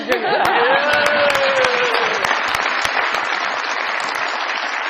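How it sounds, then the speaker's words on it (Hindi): Studio audience applause on an Indian comedy variety show, a dense sustained wash of clapping that stays loud throughout, with a sustained musical tone rising and fading under it early on. "तालियां जी।"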